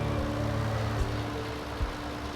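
A tractor engine in Farming Simulator 18 drones steadily at a low idle-like rumble, constant and fairly loud throughout, with a couple of brief low thumps.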